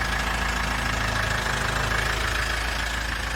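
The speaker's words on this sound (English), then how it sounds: "You can also hear that gorgeous engine doing its job." A 2020 Mitsubishi Triton pickup truck engine idles steadily at close range, a constant low rumble with a slight mechanical tick, with no voices.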